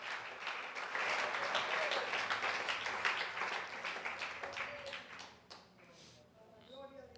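A church congregation applauds with a thick wash of clapping that builds quickly, holds, then thins out and fades, with faint voices coming through as it dies away.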